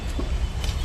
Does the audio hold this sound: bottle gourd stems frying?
no